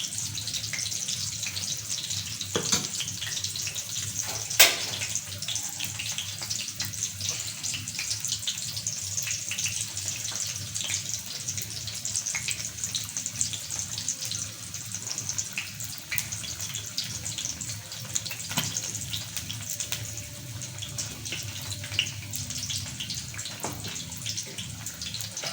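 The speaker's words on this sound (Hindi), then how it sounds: "एक साइड से पकोड़े फ्राई हो चुके हैं और दूसरी साइड अब अम्मी ने जो है चेंज किए, तब यहाँ से फ्राई हो रहे हैं" Green chili pakoras frying in hot oil, a steady close hiss and crackle of bubbling fat with occasional sharper pops, running continuously with no talk.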